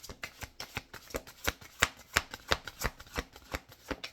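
Cards riffled repeatedly in quick, crisp bursts, about a dozen sharp flutters in steady rhythm, close to the listener with no talking.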